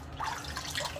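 Water runs from a tap during a straight-razor shave, a steady hissing splash held at moderate level for about a second with no voices.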